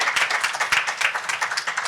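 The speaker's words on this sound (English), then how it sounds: "Please give her a round of applause." A brief round of applause from an audience of business people as a speaker is invited to the podium, quick, crisp clapping of moderate loudness with distinct individual claps audible.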